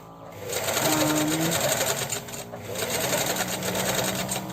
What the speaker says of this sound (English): So I'm going to sew the back seam together now, the back pieces together.